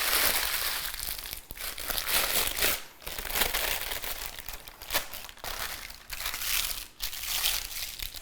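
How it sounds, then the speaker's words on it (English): Parchment paper is crumpled up by hand, producing a loud, close, continuous crinkling and crackling with brief pauses between squeezes, no voices over it. "A hack I like to use to get the parchment paper to fit perfectly into the baking pan is to crumple it up slightly"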